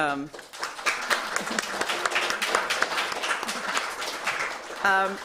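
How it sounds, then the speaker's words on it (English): Public audience at an art history event claps in a dense, lively round of applause, with voices talking briefly at the start and again at the end. "So if we can have a round of applause"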